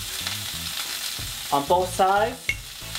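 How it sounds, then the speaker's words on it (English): Burgers seasoned with salt and pepper sizzle and fry steadily in a hot pan, close and constant, with a brief stretch of spoken words over the frying partway through. "I'm gonna cook up these burgers now"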